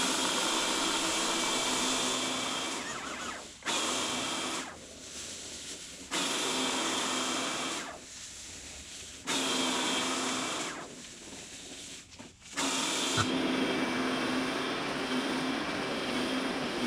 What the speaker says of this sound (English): So for these larger dirt particles, I switched back over to the power broom.